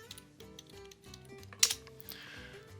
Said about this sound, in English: Let's say you go to Google, and in Google you type MetaMask.